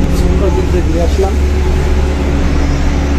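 Inside a moving public bus, a steady low engine drone and road rumble fill the cabin, with a persistent hum and faint rattles throughout.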